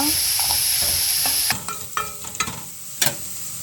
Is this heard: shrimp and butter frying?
yes